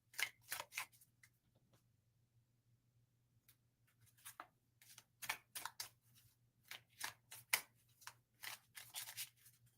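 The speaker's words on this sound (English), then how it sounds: "I'm sitting here shuffling" A deck of cards being shuffled produces quiet bursts of rapid riffling and flicking, sparse at first and then denser, over a faint steady hum.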